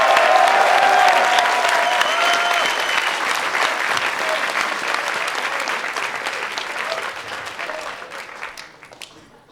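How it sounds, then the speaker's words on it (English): A convention panel audience at New York Comic Con cheers and applauds in a loud, dense wash of clapping that slowly thins and fades out toward the end. "everybody, cheer for Dennis"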